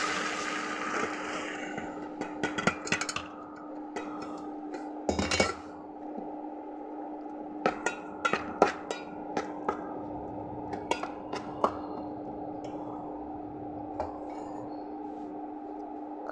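A metal cooking pot is lifted and set onto a stove, giving several sharp metallic clanks and scrapes scattered across a steady low hum, close and fairly loud, with no voices.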